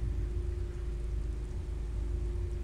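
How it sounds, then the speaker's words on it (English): Steady rain pours in the SWGEmu game world, a dense, even hiss with a low rumbling bed holding constant throughout, with no voices over it. "Oh, fucking rain came back."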